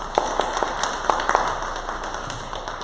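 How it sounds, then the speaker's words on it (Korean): Members of a church congregation clap for their teachers, a loose scattering of distinct hand claps at uneven intervals, moderately close, tapering off toward the end over a quiet room hum. "박수 한번 쳐주세요"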